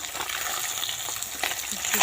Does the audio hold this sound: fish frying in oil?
yes